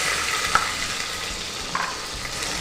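Two small onions fry in hot oil with mint in a pan, a steady close sizzle with a couple of faint utensil taps.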